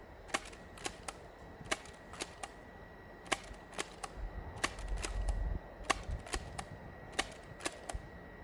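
A Nerf Fury Fire dart blaster fires about twenty sharp, close shots at an unhurried, irregular pace, each a crisp snap, with a brief low rumble of handling in the middle.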